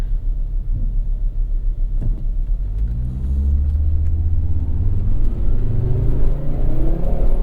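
A 1995 Volvo 850 T5-R wagon in sport mode rumbles and then revs up strongly at partial throttle, its pitch rising steadily as it accelerates hard, loud and close from inside the cabin.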